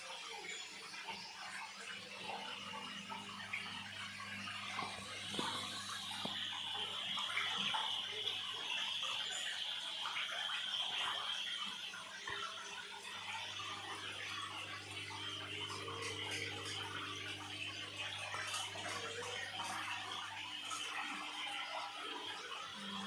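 Water drains steadily from a stinging catfish tank during a water change, a constant close rushing and splashing wash that holds an even level throughout, with no talking.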